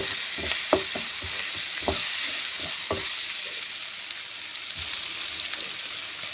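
Ginger garlic paste frying in a pan for egg biryani, giving a steady broad sizzle with a few sharp stirring knocks and scrapes, close by with no talking.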